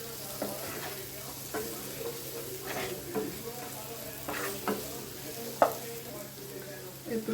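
Noodles stir-fried in a pan, with soft steady sizzling and repeated scraping stirs at an irregular rhythm, close and fairly quiet with no talking.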